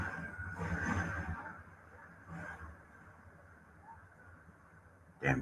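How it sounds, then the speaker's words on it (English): Loud trucks passing by outside give a broad, rumbling roar that swells twice early on, settles into a steady drone, and ends with a sharp, loud burst. "Damn trucks are so loud."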